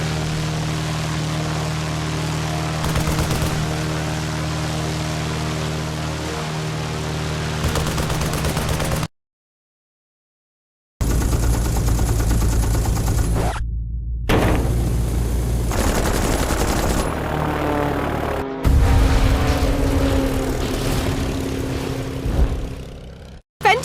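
Machine-gun fire rakes a plane in the Lost Horizon video game, with loud bursts of rapid shots over a droning propeller engine, a short silent gap, then more clattering impacts and engine noise.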